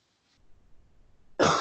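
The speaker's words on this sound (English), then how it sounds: "Excuse me, I like keep on the coughing" A single loud, abrupt cough bursts out near the end, harsh and close, after a stretch of faint low rumble.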